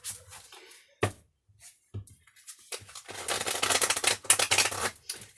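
A deck of tarot cards is shuffled close up: scattered taps and soft slides at first, then a long run of rapid riffling flutter and crisp card snaps.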